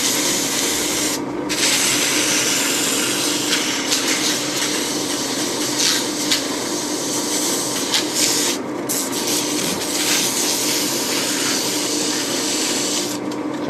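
Sandpaper rubs against a wooden bowl spinning on a lathe, a loud, steady, close abrasive hiss that continues without a break, with slight shifts in pressure and texture.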